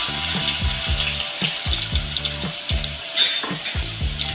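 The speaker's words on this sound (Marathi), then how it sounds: "थोडं मिक्स करून घे थोडा लसूण आपल्याला तर गोल्डन करायचं आहे" Cinnamon, star anise, cloves, ginger and garlic frying in a pan, a loud continuous sizzle with a repeating rhythmic clatter of stirring through it.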